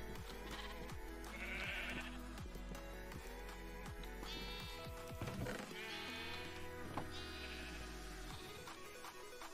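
Sheep bleating in the Minecraft game, several separate bleats spread over a farm scene with other game sounds and footsteps, fairly close and clear.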